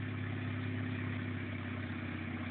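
A simulated aircraft engine runs steadily just before shutdown, a constant low droning hum with tonal bands and no change in level, no talk.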